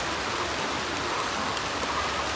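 Steady rain of the year's first shower falls across a rural Bangladeshi setting near paddy fields, a dense, even hiss of drops on surfaces with no pauses and no voices.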